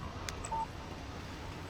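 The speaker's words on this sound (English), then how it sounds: "Text message from Barry." A phone text message alert in the video game Alan Wake Remastered: a few short, clean electronic beep tones, quiet and alone against a soft background hum.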